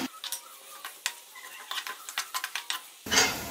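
Onions frying in cooking oil on the stove for an aloo matar gajar sabzi give a close sizzle, broken by repeated clicking and scraping of a spoon stirring in the pan.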